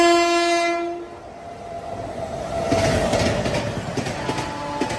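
A train passes on the railway line in India, with a horn tone sounding at the start, then a rising rush of wheels and carriages rumbling past close by that grows louder and steady toward the end.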